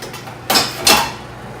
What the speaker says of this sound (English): Alright, I turn that and get the lid.